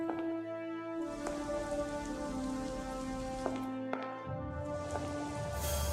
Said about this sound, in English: we just made it rain